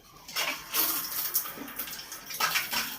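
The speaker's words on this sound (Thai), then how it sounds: "แล้วฝักบัวล่ะ" A household shower runs during a power outage, its spray hissing in bursts that start and stop several times, moderately close, with no talking.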